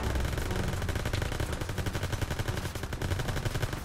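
Rapid automatic gunfire from a World War II shooter video game, Call of Duty WWII, rattles on loud and dense for the whole stretch, with shots overlapping in a continuous burst.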